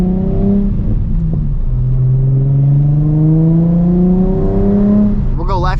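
A 2006 or 2007 Nissan 350Z revs loud and close inside the cabin as it accelerates, its engine note climbing steadily through a long pull, then a brief burst of speech near the end.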